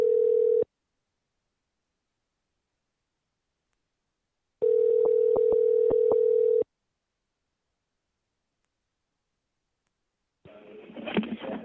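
A telephone line calling FAA clearance delivery plays a steady dial-style tone in two bursts separated by silence, a short one and then a longer one, followed by a faint burst of noise as the call connects.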